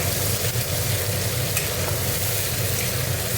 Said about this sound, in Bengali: এবার মশলাটাকে একটু কষে নেবো, ভালো করে একটু কষে নেবো।